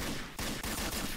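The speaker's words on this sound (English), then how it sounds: "Quit shooting at my girlfriend." Rapid bursts of gunfire crackle loud and close in a dense volley, with short gaps between clusters of shots and no talking.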